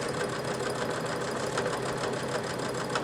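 A sewing machine runs steadily while stitching over the gathers on a sleeve, a continuous close buzzing hum with fine rapid ticking.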